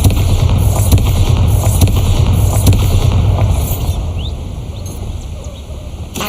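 A Bombarda blasting spell goes off in Hogwarts Legacy as a series of sharp, loud crackling bursts over a low rumble, fading somewhat toward the end.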